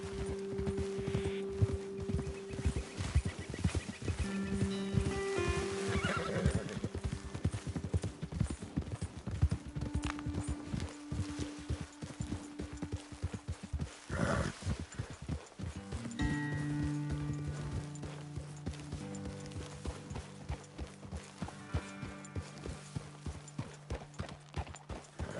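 Horse hooves clip-clop in an irregular trotting rhythm across the Red Dead Redemption 2 game world, fairly close and moderately loud, with a brief whinny-like tone and some game ambience, no speech.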